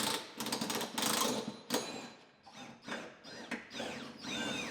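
A Buick Enclave torque tube is unbolted with a power tool, which whirs and rattles up close. Motor pitches rise and fall in short bursts, then settle into a sustained whine.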